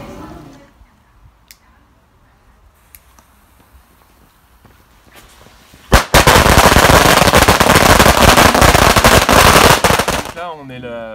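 Firecrackers are set off on Spring Festival night: after a quieter stretch of scattered pops and faint voices, a long, loud string of rapid crackling bursts erupts and runs for several seconds before stopping abruptly, with talk returning afterward.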